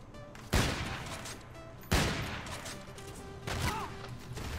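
Sniper rifle shots in the game Infinite Warfare: three sharp, loud gunshots spaced about 1.5 seconds apart, each with a decaying tail over game background noise.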